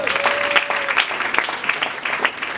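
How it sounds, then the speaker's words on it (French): A church congregation breaks into continuous applause for the Lord, a dense wash of hand clapping with a few voices calling out briefly underneath. "Est-ce qu'on peut acclamer pour le Seigneur?"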